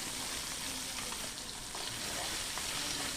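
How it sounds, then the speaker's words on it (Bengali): Fish heads fry crisp in oil over a medium flame for a Bengali bottle gourd dish. A faint, even hiss of sizzling oil runs steadily throughout, with no clear individual pops. "দেখো একদম কড়া করে ভেজে নিচ্ছি, লাল লাল হয়ে গেছে"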